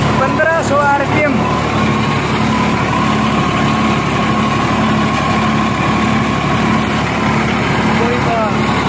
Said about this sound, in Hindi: ये देखिए पूरे 1000 RPM है, 10 फीट रोटावेटर के साथ, सिंगल क्लच ट्रैक्टर है।